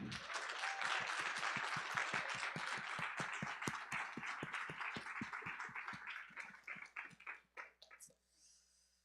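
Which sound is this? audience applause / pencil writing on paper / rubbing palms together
audience applause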